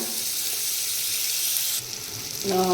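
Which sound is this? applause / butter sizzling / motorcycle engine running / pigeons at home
butter sizzling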